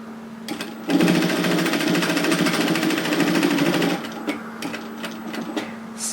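A sewing machine stitches a seam on a knit teddy jacket: a loud, steady mechanical whirr for about three seconds, then it stops, leaving a few light clicks and handling sounds.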